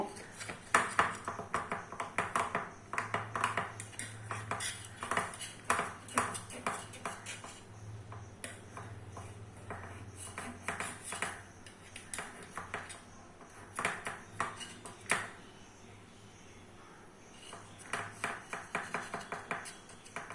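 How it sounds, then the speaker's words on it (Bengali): A knife runs around the edges of a steamed idli in a metal plate, making a quick series of light metallic taps, pings and scrapes that come in close, uneven bursts. "এটাকে এবার একটু ছুরি দিয়ে চার সাইডটা একটু ছাড়িয়ে নেব।"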